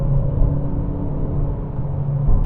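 A 2021 Kia Sportage 1.6 diesel with a DCT automatic accelerates at full throttle on an open road, heard from inside as a loud, continuous engine and road rumble that holds steady throughout.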